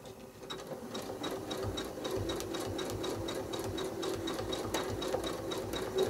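A domestic sewing machine stitches a quilt with a steady, rapid mechanical chatter of the needle, running continuously and fairly close, with no talking over it.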